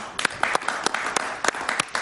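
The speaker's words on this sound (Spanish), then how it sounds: "Un aplauso para David." Brief applause from a small audience at a televised interview, a scattering of distinct, close hand claps tapping out irregularly for a couple of seconds.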